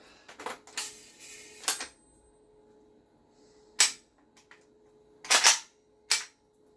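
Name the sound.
GHK AKS-74U airsoft gun firing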